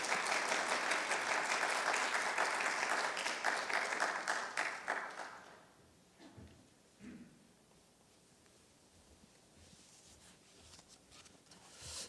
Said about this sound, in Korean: 우리 목사님 나오실 때 우리 환영으로 박수로 환영하도록 하겠습니다